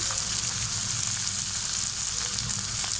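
Chopped onion, green chilli and scallion hit boiled chicken in a hot pan for vermicelli chow mein, giving a dense, even, close frying hiss with only faint stirring touches.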